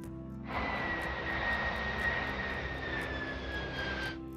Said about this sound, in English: the Kawasaki C-2 is a cutting-edge, medium-range military transport aircraft